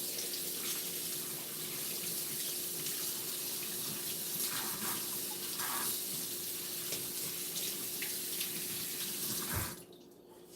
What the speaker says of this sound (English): I'm going to go ahead and rinse off another one.